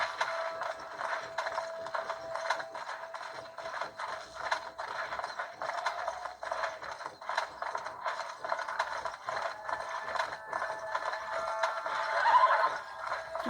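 A horse whinnies in Red Dead Redemption over a continuous mechanical clicking and ratcheting, with a synthetic, game-like quality, fairly quiet throughout.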